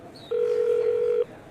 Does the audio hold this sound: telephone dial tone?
yes